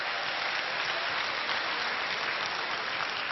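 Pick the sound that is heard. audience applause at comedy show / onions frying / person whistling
audience applause at comedy show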